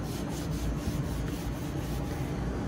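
Short, rhythmic scrubbing strokes rubbing grime off a 1987 Delta 10-inch table saw with WD-40, about a dozen quick swipes close up, fairly soft.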